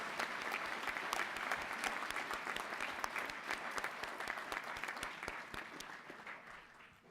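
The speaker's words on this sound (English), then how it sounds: "Let's give a round of applause right now in appreciation for all those who have helped you" Steady applause fills a commencement ceremony hall, a large audience clapping in a dense, continuous wash at a moderate distance that slowly tapers toward the end.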